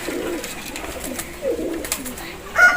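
A pigeon coos nearby in soft, low, repeated bursts, with faint background rustling and a voice in the background.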